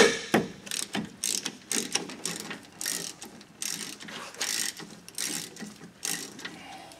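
A ratchet works a 16 mm brake caliper bolt on a 2016 Chevy Express van during a rear brake job: rapid, close clicking strokes repeat steadily in bursts, with no talking.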